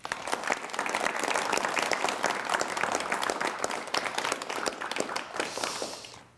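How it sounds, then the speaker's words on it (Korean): A studio audience on a 1980s Korean television talk show applauds steadily and fairly loudly, dense clapping sustained for several seconds before it tapers off at the end. "여러분 박수로 맞이해 주시면 대단히 고맙겠습니다"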